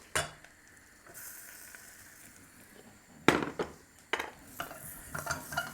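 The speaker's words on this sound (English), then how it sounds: "So I'm going to add some plain flour" Plain flour goes into a melted mixture in a pan while cooking a lasagne at a wood-fired oven, bringing soft sizzling and a few sharp clinks of a utensil against the pan, quiet and close.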